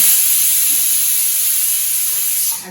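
A pressure cooker on a kitchen stove vents steam in a loud, steady hiss that runs unbroken, then tapers off slightly at the end, with no one speaking.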